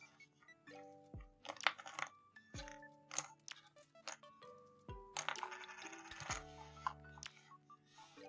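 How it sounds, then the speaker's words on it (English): Characters popping as they shuffle on a board in the Tokyo Ghoul: Bloody Masquerade video game: a quiet series of crisp, bright pops and clicks in an uneven rhythm, each with a short descending tonal tail, with no voices. "This is what it sounds like when characters are shuffled on a board."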